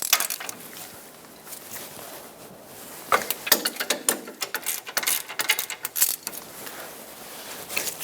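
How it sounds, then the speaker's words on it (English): A ratchet wrench with a 21mm socket works loose the caliper bracket bolts on the rear axle of a 2011-2018 Ram 2500. Close, rapid clicking comes in uneven bursts, quieter at first and growing busier toward the middle, with faint metallic clinks. "use a 21mm socket, remove the two bolts that hold the caliper and bracket onto the rear axle"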